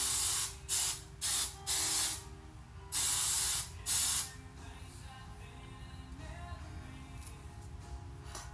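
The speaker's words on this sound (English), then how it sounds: "And then I finish with some hairspray." Hairspray misted over a finished side braid in short aerosol bursts, six or so sharp hissing sprays close to the mic over a steady background hum, with no voices.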